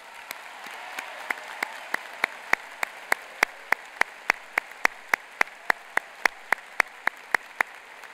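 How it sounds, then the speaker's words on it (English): At a Mentor High School graduation in 2015, the students get a round of applause that sounds like a single sharp, evenly spaced clap repeating about three times a second, crisp and close against a quiet room. "Let's please give these students a round of applause."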